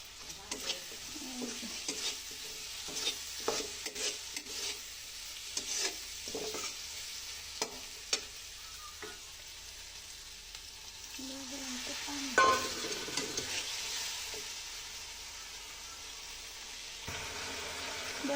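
Dried fish (shutki) sizzling in a pan with spiced masala while being stirred, quiet steady frying hiss broken by intermittent scrapes and clacks of a spatula, with faint birdsong in the background.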